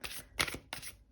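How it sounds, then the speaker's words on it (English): A deck of tarot cards is shuffled in three quick riffling bursts, close and fairly quiet, with brief pauses between them. "Let's just finish with our shuffling."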